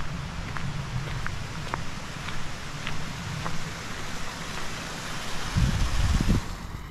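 Steady rushing water, like surf or waves, with a soft wind rumble and a few faint ticks, swelling slightly toward the end.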